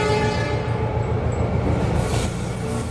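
A CC206 locomotive rolls along with a loud, continuous rumbling roar of wheels and engine, steady throughout and close by, with no talking.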